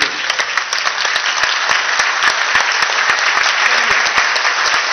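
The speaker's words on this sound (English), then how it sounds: "give them a round of applause" Conference audience bursts into sustained, dense applause that fills the room evenly from start to finish, many hands clapping at once with no break.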